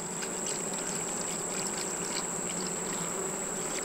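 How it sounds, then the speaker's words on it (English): Honey bees swarming around and out of a bucket feeder make a steady, even buzz that carries through the whole stretch, with no talk over it. "look at all those bees running out the top there"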